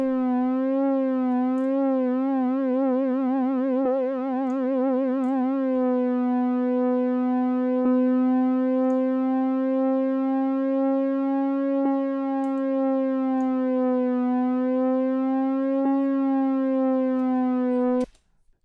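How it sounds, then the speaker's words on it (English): Synthesizer tone with its pitch wobbling under an LFO vibrato, fast and wide at first, then settling into a steadier, gentler waver. It holds as one loud sustained note for about eighteen seconds and then cuts off abruptly, with no voice. "So we have here a vibrato control, which is actually an LFO, and that is connected to the waveform here and adjusting the pitch"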